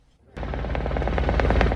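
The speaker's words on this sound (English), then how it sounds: "agents rappelled down from Black Hawk helicopters to raid an apartment complex" Black Hawk helicopters thunder overhead during a predawn raid on an apartment complex in Chicago's South Shore neighborhood, a dense steady rotor roar that cuts in abruptly and holds loud, with rhythmic blade thumps throughout.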